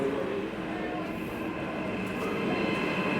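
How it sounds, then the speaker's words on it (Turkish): A double-decker train in the Netherlands rolls along steadily, a broad rushing rumble with faint rail hiss and an occasional high squeal, heard from inside or nearby. "Bakın bunlar işte trenler böyle iki katlı trenler arkadaşlar."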